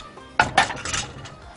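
A metal lid settles onto a pot of simmering tomato sauce with two quick clanks followed by a softer rattle and light metallic clinks, close and brief.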